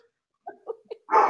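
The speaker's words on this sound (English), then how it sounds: "I'm hoping whatever he's barking at walks away soon." A dog barking indoors, a few short, soft yelps followed by one louder bark at the end, close by in a quiet room.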